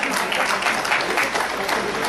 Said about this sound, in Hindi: और फिर मैं तालियों के लिए कहूँगा,